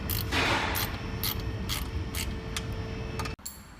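Close mechanical clicking and ratcheting while a screw is tightened on the tailpipe of an Audi A6 C8 Avant, repeated tool bursts over a steady background hum, ending in a sharp short knock.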